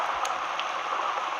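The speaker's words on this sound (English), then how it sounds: "Heavy rain has made the forest extreme." Steady, dense rain hisses continuously in a video game forest, a heavy even downpour with a few faint droplet ticks standing out.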